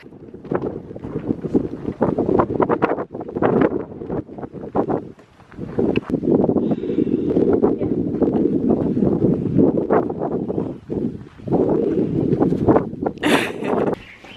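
Heavy wind buffets the microphone in a steady low roar with gusty surges and brief lulls, loud and close throughout.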